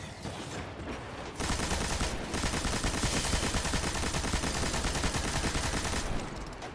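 Sniper gunfire in the shooter video game Destiny 2 rings out as dense, rapid bursts of shots that continue without a break for several seconds, loud and close, with no talk.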